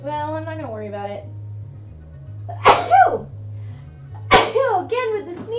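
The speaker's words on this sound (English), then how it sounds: "Again with the sneezing!" Two sharp, loud sneezes burst out a couple of seconds apart at close range, between stretches of someone talking, with a low steady hum underneath.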